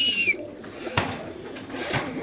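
Caged racer pigeons in a farm coo softly and keep up a low background murmur. A short high whistle comes near the start, along with a few sharp knocks or flaps.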